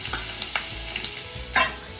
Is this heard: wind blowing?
no